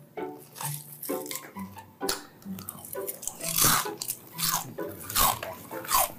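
Loud, close chewing with crunchy bites and wet mouth sounds repeating irregularly, joined by some clattering of dishes in the background.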